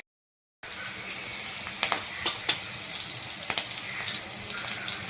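Mustard seeds, garlic and green chillies sizzle in hot oil for a vegetable tempering, starting abruptly after a moment of silence into a loud steady crackle with sharp pops and spatters scattered through it.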